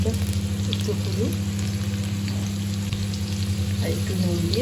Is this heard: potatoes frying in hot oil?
yes